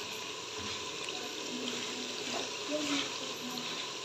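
Water running and pouring into a cooking pot on a home kitchen stove while spices are being prepared, a steady splashing stream throughout at moderate level, with a voice talking faintly beneath it.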